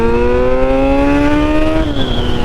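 Kawasaki Z900 motorcycle with an aftermarket exhaust revving loud and close, engine note climbing steadily through the rev range before dropping back as the throttle eases, with no voices over it.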